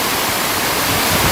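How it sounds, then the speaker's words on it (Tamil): A small waterfall pours down close to houses in a residential area of the Vagamon hills, a steady, loud, broadband rush of falling water that fills the whole moment with no voices over it. "இந்த மாதிரி அருவி மாதிரி கொட்டிட்டு இருக்குங்க தண்ணி"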